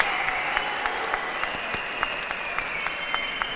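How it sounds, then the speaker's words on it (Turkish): A large crowd applauds after a bout between a Turkish oil-wrestling champion and a sumo wrestler, sustained dense clapping heard from a distance, with no clear voices above it. "Ve büyük alkış alıyor."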